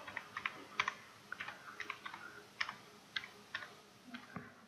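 Quick bursts of keystrokes on a laptop keyboard while a command is entered, close and crisp irregular clicks in short runs with pauses, with no talk over them.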